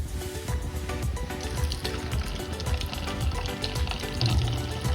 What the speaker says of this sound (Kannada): ಪನ್ನೀರ್ನ ಲೈಟಾಗಿ ಫ್ರೈ ಮಾಡ್ತೀನಿ